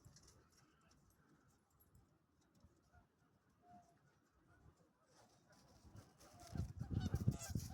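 Ducks on a lake call faintly in the distance over quiet outdoor ambience, and the honking and quacking grows louder and busier toward the end.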